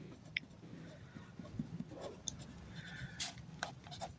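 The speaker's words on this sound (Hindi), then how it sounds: "यहाँ पर लिख लें कंटिन्यूअस।" Pen or marker writing a word on a board during a maths lesson, a soft continuous scratching with a few light taps, close and fairly faint, with no talk over it.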